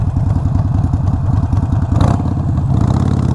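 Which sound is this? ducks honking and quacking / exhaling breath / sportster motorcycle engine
sportster motorcycle engine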